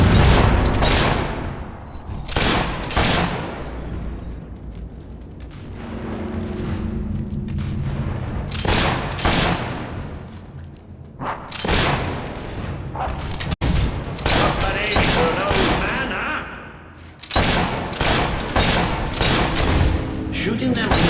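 Sustained gunfire and booms from the video game Fable 3, with repeated bursts of loud, dense shots that rise and fall across the whole stretch, broken by short lulls and heavy impacts.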